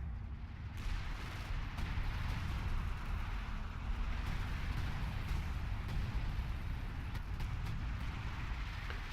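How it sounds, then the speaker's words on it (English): Artillery precision barrage in a World War II strategy game battle around Caen, a dense continuous rumble of distant blasts and booming impacts rolling on without pause, loud and steady throughout. "Actually got some artillery going down. It's the precision barrage from Lord Senna."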